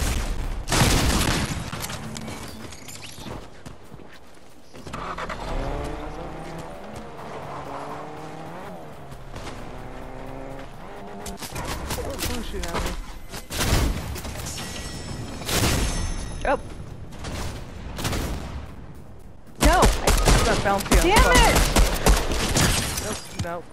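Gunfire rattles in bursts during a Fortnite match, sharp cracks and volleys clustered near the start and again toward the end, mixed with other game effects and a player talking in between.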